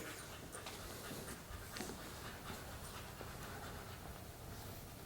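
A dog pants softly and steadily, the quick, breathy rhythm faint and continuous against a quiet background.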